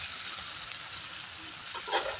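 Turkey berries and onions sizzle while frying in a pan, a steady close crackling hiss with a brief stirring scrape near the end and no talk.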